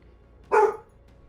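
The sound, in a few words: dog barking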